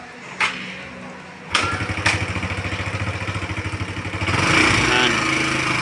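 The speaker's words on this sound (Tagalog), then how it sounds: "subukan natin patayin ng makina, tapos i-kick natin kung andar ba siya" A motorcycle is kick-started with a few sharp thumps, catches and settles into a steady, rapid chugging idle, then revs up louder near the end, heard close with no talk.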